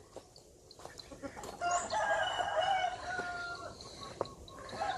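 Fighting rooster at a farm garden beside Khlong Bang Khun Thian crowing once, a drawn-out cock-a-doodle-doo at moderate distance, with faint clucks and outdoor background noise.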